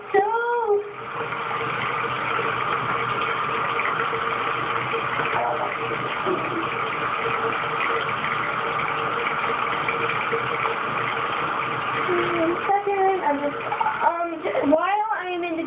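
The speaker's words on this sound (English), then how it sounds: "Let me turn on the water." Water runs steadily from a tap as a continuous hiss that lasts most of the stretch before stopping, followed by a few moments of voice and movement near the end.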